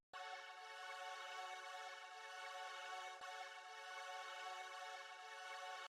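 Reversed, sped-up rendered music sample used as a background texture in a beat: a steady, sustained tonal drone that stays even from start to finish, played alone with no talking.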